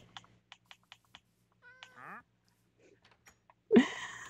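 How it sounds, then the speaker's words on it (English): Gray cat meowing indoors, a single loud meow near the end following soft scattered clicks and a brief chirpy sound, close and clear. "Come here, gray cat. Hi, kitty."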